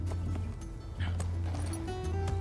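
A horse in the video game My Time at Sandrock clip-clops with a steady run of hoof beats over a low, humming game soundtrack, with no voices.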